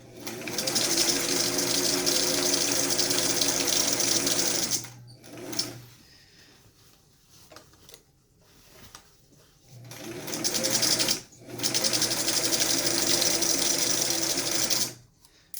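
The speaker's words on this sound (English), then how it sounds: "So now I'm just going to sew all the way around till I get to this bottom tie, leaving this edge open." A sewing machine stitches around the edge of a fitted fabric face mask in two long, loud, continuous whirring runs, separated by a quieter pause of soft handling noises.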